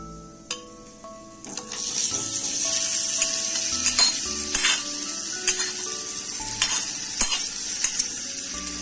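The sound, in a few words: boiled potatoes stirred into fried spices in a pan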